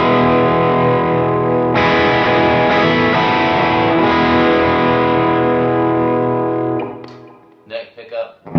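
An electric guitar on its bridge pickup runs through the Fractal Axe-Fx II Fox (Fuchs) ODS preset, ringing loud overdriven chords with a sustained, saturated tone that fades out near the end, followed by brief quieter string noise.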